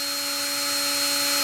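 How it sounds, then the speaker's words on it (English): An Inventables X-Carve CNC spindle running steadily with a loud, constant high-pitched whine and a strong tonal hum, no pauses. "The spindle turns on automatically."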